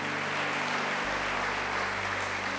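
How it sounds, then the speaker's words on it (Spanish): A church congregation gives steady applause to honour lay members during a sermon, dense clapping that holds evenly throughout with a low sustained hum beneath. "Un aplauso a los laicos."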